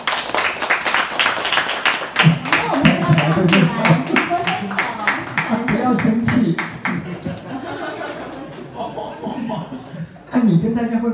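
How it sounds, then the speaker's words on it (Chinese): A banquet audience at a book-signing dinner claps and chuckles warmly, with dense applause building through the first half, then thinning into scattered claps, laughter and chatter before one more burst near the end. "请掌声鼓励一下"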